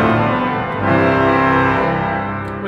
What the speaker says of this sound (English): Combine them, you get the great trumpet madness